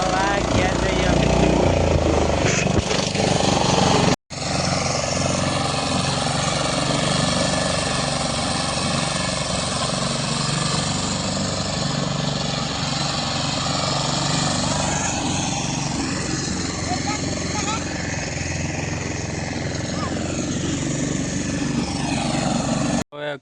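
A Royal Enfield Bullet motorcycle runs with a steady, loud engine rumble while riding home from farm fields, continuous and close, with a brief cut early on and voices partly under the noise.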